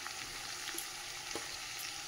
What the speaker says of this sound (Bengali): এর মধ্যে আমি নুন আর হলুদ দিয়ে আরেকটু ভেজে নেব